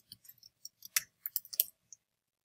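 Computer mouse buttons click while someone works in Photoshop: a dozen or so sharp, light clicks in uneven quick succession, close and fairly quiet, with no talking.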